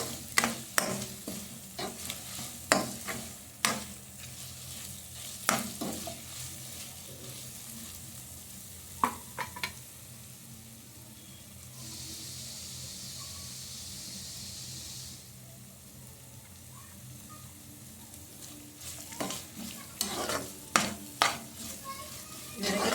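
Raw mango rice (pulihara) stirred in a hot pan: repeated scraping strokes and clacks of a spoon over a low sizzle, with a calmer hissing stretch midway before the stirring picks up again.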